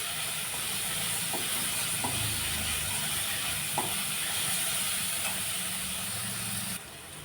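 Capsicum sizzles steadily in a hot pan for a hotel-style korma, a continuous bright hiss with a few faint clinks, with no talking.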